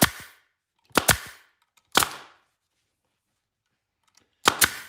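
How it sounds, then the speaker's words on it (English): A pneumatic nail gun, run from a small 5-gallon compressor, fires during a chair makeover: sharp, close clacks, some single and some in quick pairs, with stretches of silence between them. "So the nail gun like this will work with a little pot compressor, a little 5-gallon compressor."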